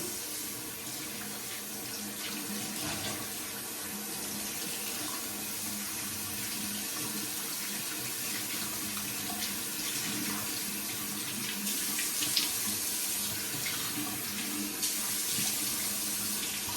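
Warm water runs steadily from a tap into a sink during a face shave. The hiss of the flow is continuous and moderately close, with no voices.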